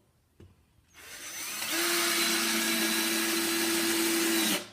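A power driver spins up and drives a wood screw into poplar hardwood with a rising whine that settles into a steady, loud hum for a few seconds, then cuts off, following a faint click.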